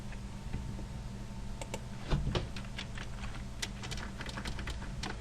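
Soft, scattered keystrokes on a computer keyboard while working in Unity, a quick cluster of taps followed by sparse clicks over a low steady hum.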